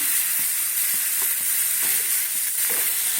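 Spice paste being stirred together with potatoes in a hot pan makes a continuous sizzle, with soft rhythmic scraping taps from the spoon at close range and no talking.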